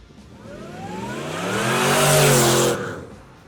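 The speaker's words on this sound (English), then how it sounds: "with the addition of the supercharger, this car sounds absolutely mental" A supercharged V8 in a 1978 Pontiac Trans Am revs up hard, pitch climbing to a loud roaring peak before dropping away, heard up close with no talking.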